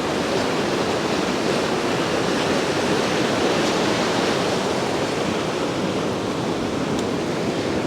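Cold, clear mountain river on the Everest Base Camp trek near Pheriche, rushing steadily beneath a bridge in a loud, unbroken broadband roar that never pauses.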